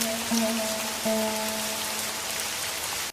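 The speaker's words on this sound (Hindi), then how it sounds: "आज तो बारिश ने जम के कहर ढाया है।" Heavy rain pours down steadily as a dense, loud hiss, with a faint tonal hum briefly underneath and no voices.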